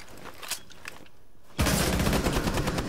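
Rapid bursts of automatic gunfire in Rainbow Six Siege, loud and close, breaking in abruptly after a quieter stretch of scattered shots and footsteps, continuing as dense sustained fire.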